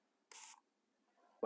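A single short, close spritz from a spray bottle misting wet watercolor paint, followed by near silence and a brief louder noise at the very end.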